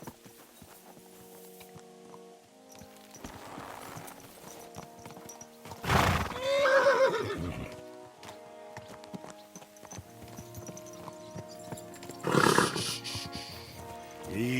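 A horse in Kingdom Come: Deliverance II whinnies twice in loud, close bursts, set over soft ongoing clip-clop of hooves and a quiet ambient background.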